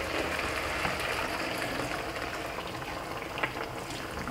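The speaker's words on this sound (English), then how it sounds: "I've got a bit of water here just to wash out the bowl." Running water steadily poured from a container into a bowl to rinse it out in a home kitchen, a continuous close splashing and trickling wash throughout with one small knock near the end.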